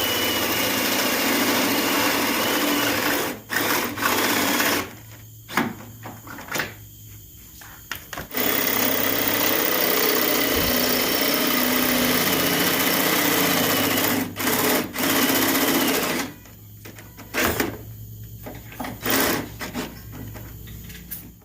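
A power drill bores holes through a vehicle frame while rock sliders are being installed. The motor whirs steadily in long runs, broken by several short pauses and restarts. No one speaks.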